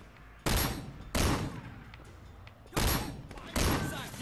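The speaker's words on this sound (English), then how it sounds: "Oh, an anti-riot shotgun." An anti-riot shotgun fires in the video game Sleeping Dogs: four loud, close blasts spaced unevenly, each with a short decaying tail over a low background hum.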